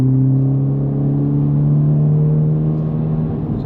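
Newly owned car's engine pulling smoothly under acceleration while driving, a loud steady mid-pitched drone that climbs gradually, no voices.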